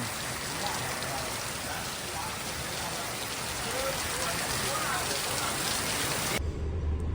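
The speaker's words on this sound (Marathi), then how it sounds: "तुफान पाऊस आलं तुफान" Heavy rain pours down steadily, a dense, loud hiss filling the whole stretch without pause, close by.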